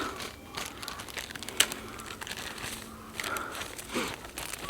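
A dry poppy seed pod torn open by hand in a fall garden, giving a steady close crinkling and crackling rustle with one sharp snap partway through, and no voices.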